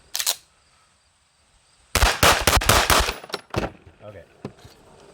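Sig P211 pistol fired outdoors in a few bursts of sharp, loud shots, one isolated crack followed after a pause by a rapid string of reports, then a couple more scattered shots.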